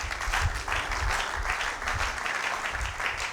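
A church congregation applauding together, a steady dense clapping that fills the space, with a faint voice underneath.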